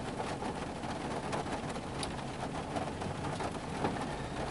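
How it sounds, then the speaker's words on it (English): Heavy rain pours steadily outside, a dense, constant hiss with scattered louder drops that stays even throughout, heard alone with no voices. "Raining like crazy out there."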